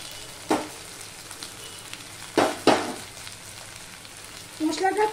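Ground turmeric, salt, chili, coriander and cumin go into hot oil in a pan for an ichor chingri dish, giving soft steady sizzling and a few sharp bursts of spitting and stirring.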